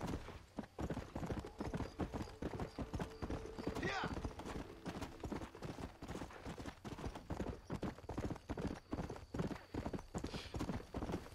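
Hooves from a horse in the video game Red Dead Redemption pound in a steady galloping rhythm, close and continuous, with a brief whinny partway through and a voice speaking over the riding.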